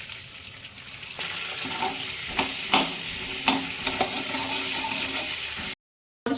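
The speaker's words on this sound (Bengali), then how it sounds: "রুটিটা এখন একটু ভেজে নিচ্ছি" Bread sizzling in oil in a pan: a steady, close frying hiss broken by a few stirring and scraping clicks, then cutting to a moment of silence at the very end.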